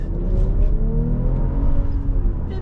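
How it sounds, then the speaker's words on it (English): A BMW X5 xDrive45e plug-in hybrid SUV engine hums low and steady from inside the cabin while driving, with a soft whirring drone and faint road noise throughout. "The engine is nice and quiet, but not silent."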